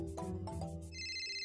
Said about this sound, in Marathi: शकूचा फोन आहे.